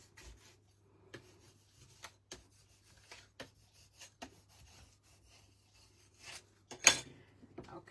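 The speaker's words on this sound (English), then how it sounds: "just fold that up and burnish that down well" A folded paper crease for a handmade book being burnished down with a series of short, faint rubbing strokes spread at irregular intervals, followed by a louder scrape near the end, with no voices.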